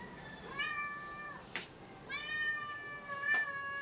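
A cat meows repeatedly in a quiet garden setting, with three drawn-out cries spaced a second or so apart, fairly close and clear against faint background noise.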